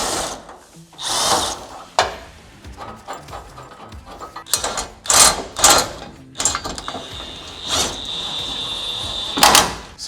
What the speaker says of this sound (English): We'll go ahead and tighten up this flange nut so it doesn't move on us.